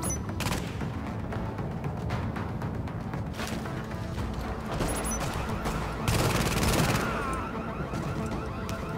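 Dense, sustained gunfire in Tom Clancy's The Division, a video game: overlapping rapid bursts and sharp individual shots crackling through the whole stretch, loud and close, with a heavier flurry of impacts near the end.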